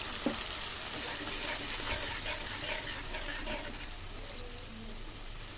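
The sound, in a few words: water added to sizzling hilsa fish curry in pan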